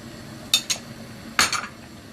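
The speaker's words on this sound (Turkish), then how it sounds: "Güzelce karıştırıyoruz." A spoon clinks twice against a pot while corn flour is stirred into black cabbage soup, two faint, brief metallic taps close by over a quiet background.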